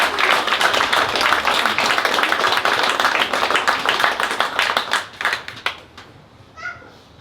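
Wedding guests clapping after the vows at a ceremony, brisk, close applause from a modest group that holds for about five seconds and then tapers into a few scattered claps before fading out.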